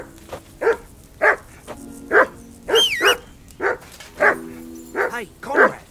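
Dog barking in the video game Kingdom Come: Deliverance II, a string of about ten loud, evenly spaced barks and yips close by, with a brief whistle partway through and game voices talking alongside.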